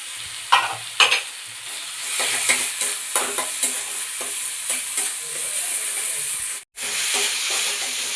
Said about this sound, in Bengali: আদা রসুন ভাজা ভাজা হয়ে এসছে